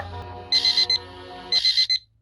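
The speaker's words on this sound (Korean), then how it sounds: "알람 소리 너무 현대인데?" A modern-style alarm clock rings in the video game Yggdra Reverse, two bursts of rapid electronic beeping, each about half a second long, separated by a brief pause over a soft music bed.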